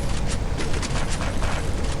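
Loud, dense rumbling blasts roar continuously, a harsh saturated explosion din filling the whole stretch, in the video game Free Fire.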